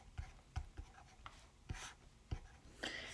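Marker or chalk scratching out a math expression on a board, a run of short taps and strokes with uneven rhythm, close and fairly quiet with no voice over it.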